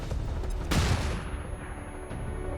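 A grenade detonates in XCOM 2 with one sharp, loud blast, which trails off into a short rumbling decay while quieter game ambience carries on underneath.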